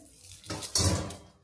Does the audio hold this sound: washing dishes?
yes